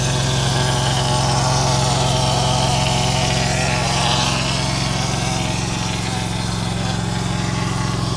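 Spraycrete pump engine running steadily on a waterfall construction job, a loud continuous mechanical drone with an even low hum, close by, with no talk over it.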